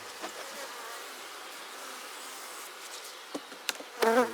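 Many bees hum steadily around a hive during honey harvesting in a continuous low drone, with a louder buzz passing close near the end.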